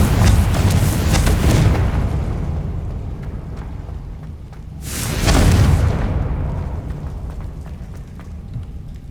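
Two heavy booming blasts from the Confringo fire spell in Hogwarts Legacy, a loud broadband explosion at the start and another around five seconds, each with a rumbling decay beneath a steady low game ambience.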